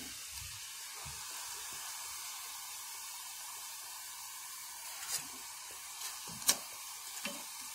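Jamaican fried dumplings, or johnny cakes, lifted out of hot oil, a soft, steady sizzle running throughout, broken by a few faint clinks and scraping stirs near the end, with no talk.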